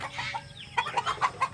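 Newly hatched duckling chicks from an incubator batch peep in a rapid series of short, high chirps, close and fairly loud, with a faint busy background of other birds and no talking.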